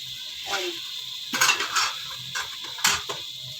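Mutton keema roasts in a pot while being stirred, with a spoon scraping and clinking against the metal in a few distinct strokes over a faint sizzle.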